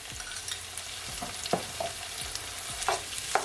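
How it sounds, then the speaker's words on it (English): Crushed garlic sizzles in hot oil with softened cabbage in a pot, a steady close frying hiss broken by a few sharp spatters and the scrape of stirring. "I'm gonna add some crushed garlic to it"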